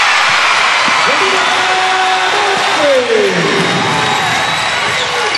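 Basketball arena crowd during a Florida versus Georgia game, a loud, steady roar of spectators filling the space, with a commentator talking over it.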